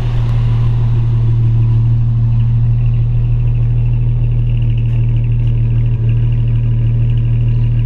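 A deep, steady exhaust drone from a 1951 Hudson Hornet's straight-six engine with Twin H Power idling, with a strong low rumble holding constant throughout and no voices.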